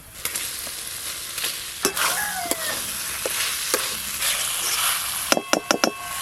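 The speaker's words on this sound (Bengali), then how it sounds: "মশলা আর আলু একসঙ্গে তো ভালো করে মেশানো হয়ে গেল।" Fried potatoes are stirred into a cooked spice paste in a pan, with a steady frying sizzle and repeated sharp spatula scrapes and taps that cluster into quick knocks near the end, with no talking.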